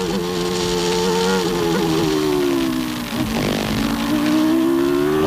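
A 1994 McLaren Formula One car takes a corner at the Australian Grand Prix, its engine holding a steady, high, harmonic whine that dips briefly mid-turn before climbing again, loud and continuous.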